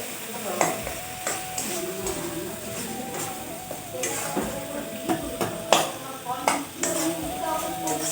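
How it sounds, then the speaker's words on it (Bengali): Chicken kosha masala sizzling in a pan over low heat as a spoon stirs it, sharp scraping knocks over a steady frying hiss, with occasional clinks of utensil on metal, close by. "তাহলে খুব সুন্দরভাবে মশলাটা কষিয়ে নেব"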